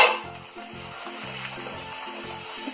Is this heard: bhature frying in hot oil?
yes